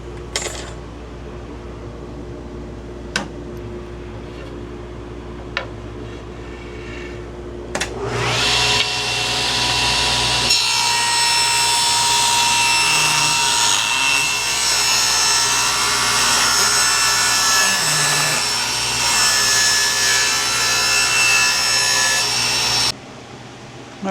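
A power saw rips through wood while cutting strips for a segmented salad bowl: faint clicks and room hum, then the blade spins up near 8 seconds into a loud, steady whine and cut that runs until it stops around 23 seconds.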